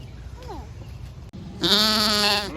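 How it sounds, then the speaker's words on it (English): A single loud, drawn-out sheep bleat nearby, wavering for about a second after a stretch of quiet background rumble. "We found the sheep."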